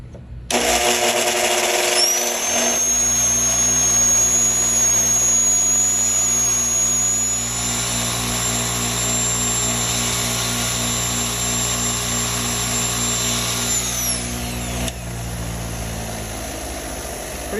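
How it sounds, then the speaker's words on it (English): A steady, high-pitched whine of a 70-year-old Black and Decker Model 457 Holgun electric drill spinning a wire brush, running for several seconds with a constant motor hum before winding down. "I'm going to use the drill spinning and the wire brush spinning"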